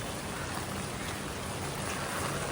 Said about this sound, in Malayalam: ഞാൻ ഇങ്ങനെ നിർത്താതെ മഴ പെയ്യുന്നു പ്രതീക്ഷിച്ചതേയില്ല